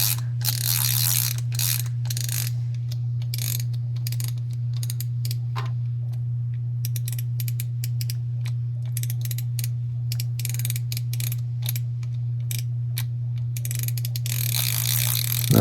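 Winding the mechanism of a 1957 Horrocks-Ibbotson Aristocast 1915B vintage spincast fishing reel during a service gives a steady run of fast ratcheting clicks and gear ticking, close and continuous, over a constant low hum.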